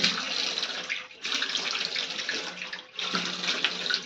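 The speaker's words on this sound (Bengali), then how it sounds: "এবারে ঠান্ডা জলটা মুখটাকে ভালো করে ওয়াশ করব মানে ধুয়ে নেব ঠান্ডা জল দিয়ে ভালো করে ধুয়ে নেব" Cold tap water runs as a face is washed, a splashing flow that breaks off twice into brief pauses between bursts, close and quiet, with no voices.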